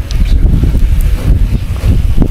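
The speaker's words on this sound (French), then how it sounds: "Oh, le vent s'est levé, hein." Strong outdoor wind gusts blow steadily beside a small restaurant in Oualidia, Morocco, a loud, continuous low rumble of buffeting air on the microphone with no pause.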